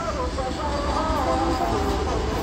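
A freight train carrying goods passes by without stopping, producing a continuous rumbling roar across the whole stretch, with voices nearby.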